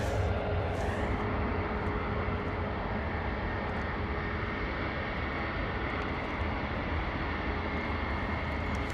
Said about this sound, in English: Looks like we've got a bit of a potentially privately owned A319 taxiing past us as well.